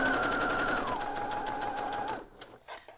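A sewing machine runs steadily, chain stitching denim quilt pieces in one continuous close burst for about two seconds before stopping, leaving faint handling noises.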